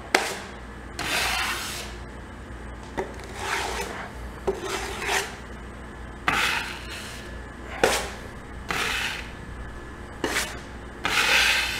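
Repeated rasping scrapes of a trowel smoothing drywall compound on a hawk while fixing a damaged drywall corner, about eight strokes in an uneven rhythm, close and fairly loud.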